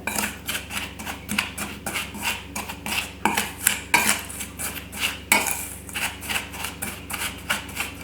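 Dry spice rub with sage, granulated garlic and California chili being mixed in a bowl for country-style pork ribs, heard as steady close scraping and clinking of a utensil against the bowl in quick repeated strokes.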